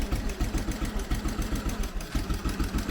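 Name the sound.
old two-stroke Triumph motorcycle engine idling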